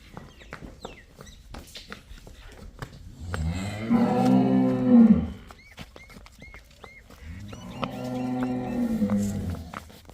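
Buffalo and cow on a farm where they are for sale, giving two long, deep lowing calls, the first loud and the second slightly softer, with quiet farmyard background between them.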